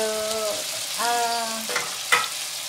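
Chicken thighs with char siu sauce sizzling in a pan, a continuous crackling fry under a few clinks of a utensil stirring, with no talk.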